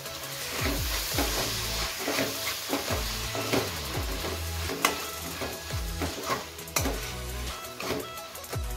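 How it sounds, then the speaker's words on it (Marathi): Vegetables seasoned with a spoonful of salt are stirred in a hot pan for veg fried rice, giving a continuous close sizzle with repeated scraping and clattering strokes of the spoon in an uneven rhythm. "ढवळून घेऊया।"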